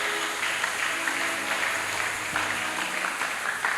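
A church congregation applauding the Lord at a revival service, a sustained, dense patter of many clapping hands with a faint murmur of voices underneath.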